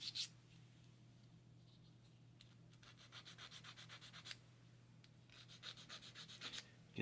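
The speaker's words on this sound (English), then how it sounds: "Now we take H21, which is this one. Give it a little bit of a sand." Sanding a small plastic part from a Trumpeter 1/200 USS Iowa BB-61 model kit: close, steady scratchy rubbing strokes in several bursts, with a low constant hum beneath.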